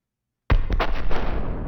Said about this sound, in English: trying to build a realistic explosion for the sake of future projects